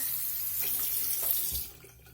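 Tap water runs into a sink while makeup brushes are being cleaned with Zote soap, a steady close hiss and splash that cuts off near the end, leaving quiet.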